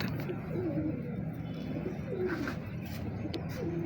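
A purebred pigeon coos nearby in a series of low, rolling coos that repeat steadily over a faint background hum.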